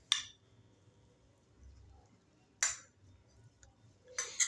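A spoon clinks against a bowl while spices are mixed, including red chilli powder, black pepper and chaat masala for white sauce pizza: three bright, short clinks spaced apart over a low, quiet background.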